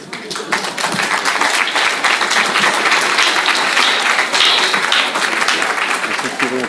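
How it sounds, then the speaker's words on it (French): Loud, sustained audience applause at a success seminar in Nice, many hands clapping in a thick, continuous roar that swells quickly and stays full, with some voices faintly mixed in. "merci Luc, on t'applaudit"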